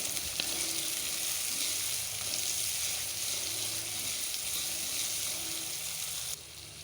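Chopped onions frying in groundnut oil with mustard seeds in a hot kadai, a steady close sizzle running throughout with no talk, dropping slightly in level near the end.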